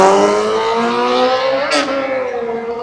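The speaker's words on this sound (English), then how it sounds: "that's a loud motorcycle" A loud motorcycle roars past on a busy Hollywood street along Sunset in Los Angeles, a close, rising and falling engine drone that swells and fades over a few seconds.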